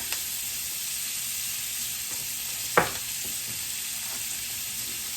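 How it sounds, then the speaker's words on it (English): Mushrooms with onion and garlic cook in a hot pan, giving a steady broadband sizzle and one sharp clack of stirring midway. No voices are heard. "We're going to cook this 4 to 5 minutes. Give it a nice stir"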